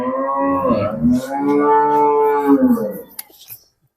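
A dairy cow moos loudly and close by, one long drawn-out low call that rises and falls before trailing off, followed by brief soft rustling.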